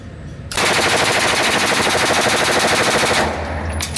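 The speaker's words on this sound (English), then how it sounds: "It is a thing to behold to actually shoot a full machine gun, a full-on machine gun." Full automatic open-bolt machine gun fires one long, continuous loud burst lasting nearly three seconds, then stops abruptly, leaving outdoor rumble.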